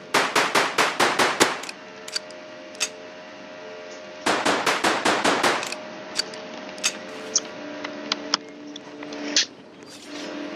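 Video game gunfire at soldiers in a forest battle comes as two rapid bursts of sharp, loud shots, followed by scattered single shots and metallic clanks.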